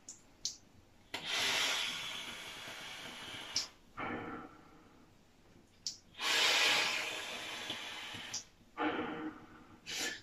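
Vaping on a Tauren Max RDTA at 58 watts, with the honeycomb airflow fully open: several long hissing draws a couple of seconds each, separated by short pauses and clicks, close and fairly loud with no talk.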